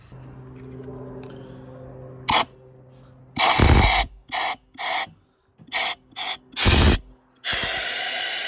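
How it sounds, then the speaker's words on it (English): Compressed air blasts water out of flooded engine cylinders five and six, a series of loud, sharp hissing bursts of varying length separated by short pauses, close up, after a quiet hum at the start. "I'll insert some footage now of me blasting that out with compressed air"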